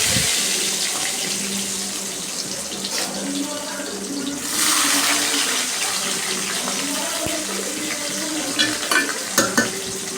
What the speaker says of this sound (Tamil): சின்ன வெங்காயம் தக்காளி போட்டு நல்லா வதக்கணும்